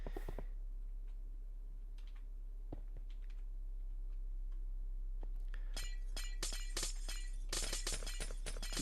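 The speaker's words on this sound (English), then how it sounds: "I'm so thankful that the portable drill does insta-mine glass as well" Glass blocks shattering as a portable drill insta-mines them in the Minecraft Create mod: a few sparse crisp breaks early, then a dense rapid run of bright crashing shards toward the end.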